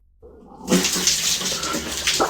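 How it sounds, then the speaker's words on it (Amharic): Water gushes from a tap, starting abruptly after a short silence and pouring steadily and loudly as a broad splashing rush with no voices. "በቧንቧ ነው እንዴ የምትታጠበው?"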